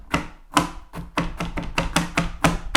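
A knife chops garlic quickly and steadily on a cutting board, about a dozen crisp, close strikes in an even rhythm.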